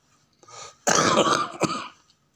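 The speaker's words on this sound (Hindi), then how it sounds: "खांसी अभी गई नहीं" A single harsh cough, preceded by a faint throat sound, close and fairly loud in quiet surroundings.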